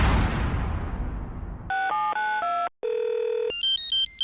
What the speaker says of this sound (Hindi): मुस्तकिल कॉल के आने पर साथ मौजूद इस नए दोस्त ने पूछा कि आखिर ये किसकी कॉल आ रही है